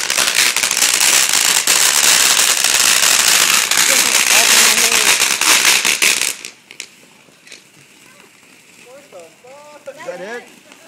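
Outdoor July 4th fireworks display, a dense barrage of firecracker crackles and explosions for about six seconds that suddenly stops, leaving quieter scattered pops while people talk nearby.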